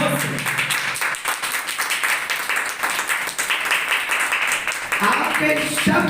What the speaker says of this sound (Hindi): हालेलुया, ताली बजाओ।